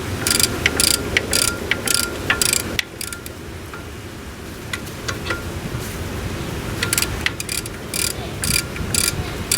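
A ratchet works a bolt loose on a 2008 Nissan Versa during a CV axle and seal swap, giving quick clicking bursts in several runs with short pauses between them.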